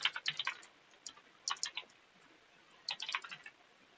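Computer keyboard typing in a Python/SQLite coding session, with short bursts of quick key clicks separated by pauses, close and moderately quiet, no talking.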